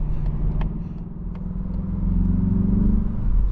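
A 2026 Mazda 3 Turbo Premium Plus sedan in sport mode accelerates, its turbocharged engine giving a steady low rumble that builds slightly in pitch and loudness, heard from inside the cabin.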